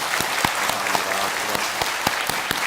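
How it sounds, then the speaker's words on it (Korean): A church congregation claps together in steady, full applause, with a few sharper individual claps standing out over the dense sound of the crowd. "우리 목양부 식구들을 위해서 박수 한번 해드리도록 하겠습니다."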